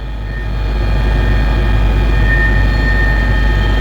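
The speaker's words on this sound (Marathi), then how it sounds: "या हेलिकॉप्टरच्या माध्यमातून आपण बघू शकता" A helicopter giving rides at the Mahabaleshwar tourism festival runs as a loud, steady engine and rotor drone that swells in the first half second and then holds constant, with no voices.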